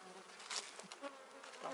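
Honey bees buzzing at a hive in an apiary, a faint, continuous drone with small swells as individual bees pass close by.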